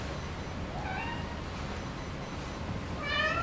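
A cat meowing twice, the first call faint and mid-length, the second higher and louder near the end, over a steady hiss of room noise with no talking.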